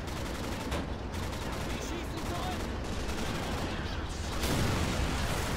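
Dense, continuous gunfire in a military strategy game during a supply line defence, loud and close with overlapping bursts and no break throughout.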